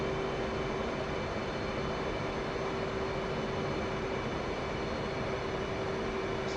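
An aircraft engine in a carrier landing video game drones as a steady, moderately quiet rumble with a constant hum and hiss, holding level throughout without any clear surge; no voices.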